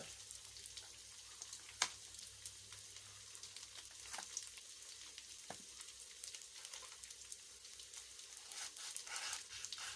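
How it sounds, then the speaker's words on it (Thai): Thai curry paste, ground in a grinder, sizzles as it is stir-fried in a pan, with a steady crackling fry, a few sharp scraping stirs, and close, moderate loudness. "นี่เราก็จะผัด พริกแกงให้หอมก่อน"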